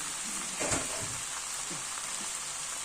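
Kofta is added to a pan with vegetables and fries in a steady, soft sizzle, with a few light scraping and stirring sounds near the start and no talk over it.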